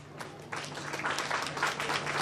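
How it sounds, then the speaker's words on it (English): Audience applause at a school annual function, a dense wash of clapping from a crowd that swells after a quieter start and continues steadily, heard from some distance. "Let us show our appreciation with a resounding round of applause."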